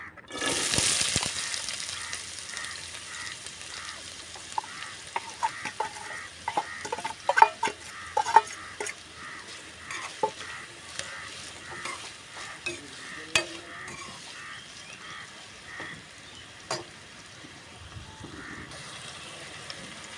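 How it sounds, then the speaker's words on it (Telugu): Onions frying in oil in a pan for a village-style chicken curry, a steady hiss of sizzling with frequent stirring scrapes and clicks of a spoon, close and moderately loud. "ఇందులోకి ఆనియన్స్ వేసుకోవాలి"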